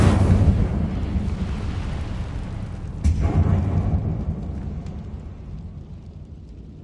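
The Incendio fire spell in Hogwarts Legacy, a deep roaring whoosh of flame that flares again midway, then slowly fades out, loud and alone.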